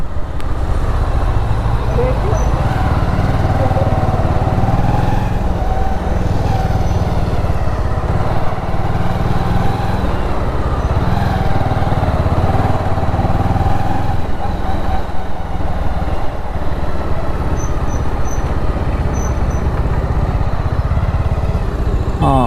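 A motorbike rides through narrow lanes in Goa, its engine a steady close drone running throughout, with wind rush and occasional voices over it.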